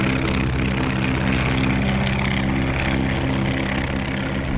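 A 1935 propeller airplane flying a skywriting run drones with a constant, heavy engine roar that holds steady and loud throughout.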